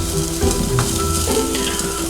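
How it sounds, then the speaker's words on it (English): Onions fry in olive oil in a pan over medium-low heat, giving a steady close sizzle with faint crackles and a brief stir, without speech. "I've put 2 tablespoons of olive oil in the pan on a medium to low heat, and I'm just letting them sort of just cook"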